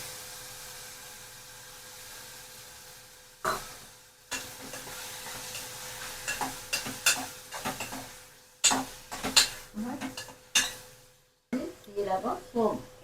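Mutton frying in a pan with ginger garlic paste and small onions, stirred as it cooks: a steady close sizzle broken by irregular scraping and clattering strokes of a spoon against the pan.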